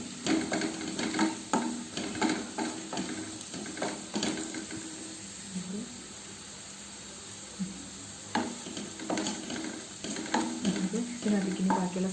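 Curry leaves crackling in hot oil over softened onion, garlic and ginger, a busy close sizzle with quick spattering pops and intermittent scraping stirs, quieter in the middle before the clatter picks up again.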